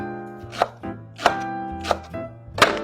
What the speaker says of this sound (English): You just slice it thin